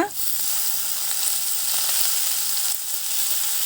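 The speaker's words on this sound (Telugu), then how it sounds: "ఇది కాస్త ఫ్రై అయిన తర్వాత ఇందులో మనం సన్నగా తరిగి ఉంచుకున్న కొత్తిమీరను వేసుకుందాం" Chopped coriander leaves fry in a pan with a steady, close sizzle and crackle that runs unbroken, with a faint clink of stirring near the start and end.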